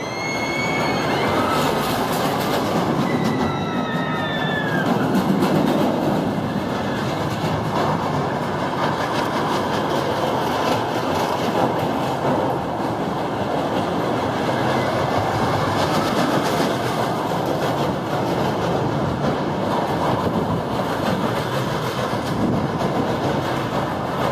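A Schwarzkopf steel roller coaster at Busch Gardens Tampa runs at full force with a steady, loud roar of wheels and rushing wind, and a brief high screech of wheels early on.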